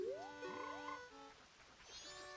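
A frog in Zelda Majora's Mask gives a short croaking call, rendered as a bright, warbling, pitch-sliding chirp and a few tonal bursts, clear and isolated for about two seconds.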